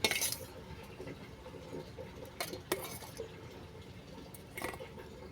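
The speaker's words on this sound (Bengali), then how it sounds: "টক দই আর আমের কাত ভালো করে মিশিয়ে নিচ্ছি।" Ripe mango pulp and sour yogurt being stirred together in a bowl, with a spoon scraping and clinking against the dish in a few sharp taps over a soft, steady mixing background.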